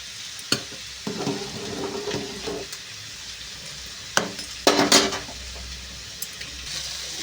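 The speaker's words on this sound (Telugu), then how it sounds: "హైలో పెట్టి ఇలా ఫ్రై చేస్తూ ఉండాలి." Potatoes fry on high flame in a pan with a constant sizzle as a spatula stirs and scrapes in irregular clanks, close and clear with no talking.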